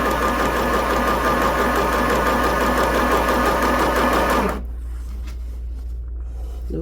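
A domestic sewing machine stitches straight seams through fabric, a loud steady mechanical whir that runs continuously for about four and a half seconds, then stops abruptly, leaving a faint low hum.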